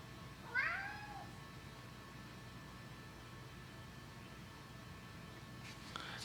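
A single cat meow, short and clear, rises near the start over a steady background hiss of a room with camera gear, then near-silence follows with a faint click at the end.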